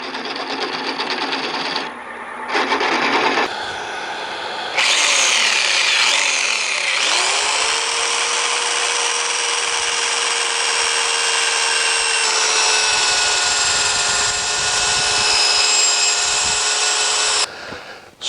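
Chisel and sandpaper work on a natural-edge winged wooden bowl, with a steady, loud machine whir carrying bright sustained tones that shifts character partway through and runs nearly nonstop before cutting off.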